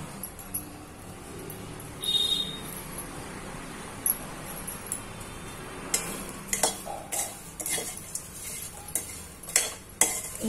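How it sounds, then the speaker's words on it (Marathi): A spoon stirs makhana (fox nuts) roasting slowly in a dry pan for a sweet Navratri offering, giving light rattling, ticking scrapes and clicks that grow busier toward the end over a soft background hiss. "हे बघा हा मखाना आता हळूहळू छान भाजायचा।"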